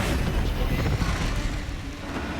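Bombarda spell blast in Hogwarts Legacy, a loud rumbling explosion with a heavy low boom and crackling debris that holds and slowly eases off.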